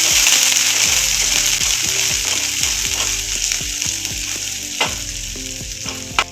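Finely chopped small onions (shallots) frying in hot oil for a Tamil beans poriyal, a loud, dense, continuous sizzle up close with a few sharp spatula clinks near the end.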